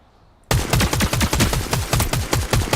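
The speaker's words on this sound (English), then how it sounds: "Somebody's shooting down below." Rapid bursts of video game gunfire, a steady rattling volley of shots loud and close after a brief quiet start, no voices.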